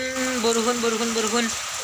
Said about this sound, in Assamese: পুৰা বৰষুণ মাৰিছে এয়া দেখিছে তো